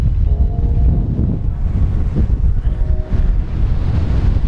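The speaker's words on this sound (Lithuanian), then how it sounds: "Vėjas geras." Strong wind buffeting the microphone at a green lagoon by the sea, a loud continuous low roar with surging gusts and no talk.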